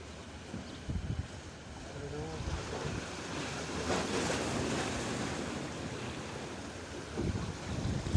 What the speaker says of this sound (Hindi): हवा बहुत तेज़ चल रही है माशाल्लाह, बहुत प्यारी हवा।